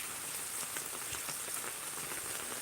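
Rain falls in the eastern Miraj area as a dense, steady patter on surfaces, soft and continuous with no break over a few seconds.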